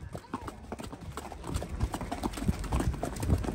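Horse hooves clip-clop steadily on a rural trail at night while riders drive a loose mare along, a close, continuous trotting rhythm with faint voices now and then.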